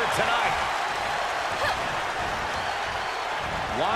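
A raucous arena crowd in the WWE 2K22 wrestling game roars and claps steadily throughout, a dense, continuous wash of cheering and applause with commentators talking over it.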